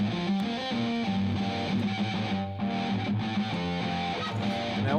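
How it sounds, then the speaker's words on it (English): Electric guitar played through an Amplitube 3 distortion pedal setting, heavily distorted and sustained, with a steady loud chugging riff and ringing chords throughout. "Let's put a distortion in."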